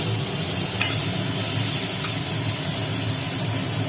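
Cut bitter gourd frying in hot oil with five-spice seasoning in a wok, a loud steady sizzle and hiss throughout with a couple of faint clinks, no voices.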